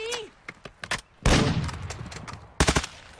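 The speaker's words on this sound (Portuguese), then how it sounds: "Estão atirando em mim." Gunfire in Warzone, a video game: sharp bursts of shots in scattered clusters, with a louder sustained rattle in the middle and another tight burst near the end, moderately close, with a voice talking under it.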